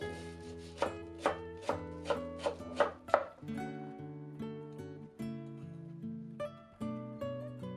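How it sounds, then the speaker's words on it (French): Shallots finely chopped with a knife for a Laotian rice-noodle soup: about seven quick, evenly spaced chops over background music, followed by music alone. "Puis ciseler finement les échalotes."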